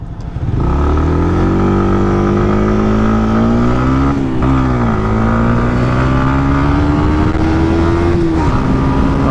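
A 2020 Yamaha MT 125 motorcycle accelerates hard, its close, loud engine note climbing steadily through the revs, dipping briefly at a gear change near the middle and then rising again, with no talking.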